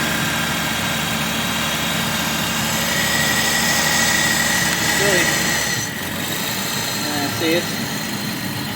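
A 1995 Jeep Grand Cherokee ZJ engine, recovering from fire damage, idles steadily with its RPM creeping up and then dropping, a constant close mechanical drone with someone talking over it.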